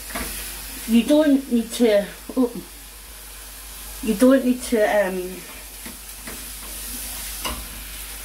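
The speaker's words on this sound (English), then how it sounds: "So I'm just browning that in the pan." Minced meat browning in a frying pan, a soft, steady sizzle and occasional stirring under a person talking close by.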